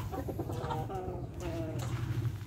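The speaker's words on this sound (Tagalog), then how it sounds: "meron kayong kahit ganito maliit na manukan yan" Chickens cluck in a small backyard coop, giving repeated close clucks over a low rumble, while a person talks alongside.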